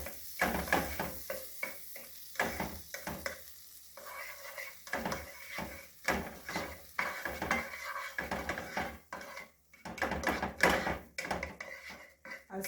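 Butter melting in a pot for steamed cabbage with saltfish and cassava dumplings, stirred in quick repeated scrapes and clanks over a soft sizzle. The strokes come close and continuous with short pauses, and no voice is heard.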